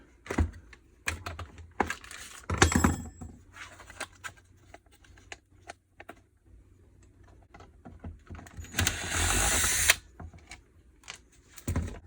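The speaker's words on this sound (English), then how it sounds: "We're driving out this pin that holds the pedal in." Sharp metallic taps from a drift punch driving a pin out of the plastic pedal on a Thetford Aquamagic Starlite RV toilet, a loose series of close, irregular knocks with a dense burst of activity near the end.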